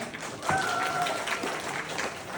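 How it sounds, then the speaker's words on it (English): Audience applause for the mayor at a New Year celebration, a short burst of scattered clapping, fairly faint and distant, with a brief whistle-like tone partway through. "Quick round of applause for her."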